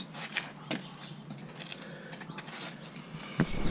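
A torque wrench tightens a motorcycle axle nut, with a series of faint ratcheting clicks and small metallic mechanism noises, a sharper click near the end, and no talking.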